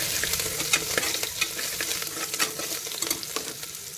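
Garlic and green chillies roasting in hot oil with a pinch of asafoetida for pulao, a lively crackling sizzle with busy, rapid stirring scrapes throughout.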